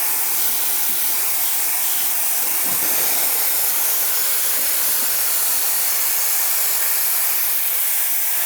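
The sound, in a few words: espresso machine steam wand steaming (La Marzocco Linea Mini / Zarre)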